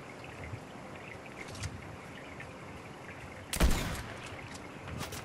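Fortnite gunfire in a duos match: a sharp loud burst of shots lands near the middle, with a few fainter pops earlier and later over steady background game ambience.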